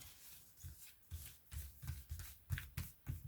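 Oracle cards being shuffled by hand, a quiet close series of soft riffling and rubbing bursts in an uneven rhythm, with no talk.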